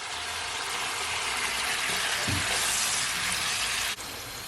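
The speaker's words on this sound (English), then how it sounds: "Then I'm gonna add that liquid from the bowl." Liquid from a bowl poured into a hot pot of Jamaican pork stew, a steady loud sizzling hiss and splash that runs throughout and cuts off near the end.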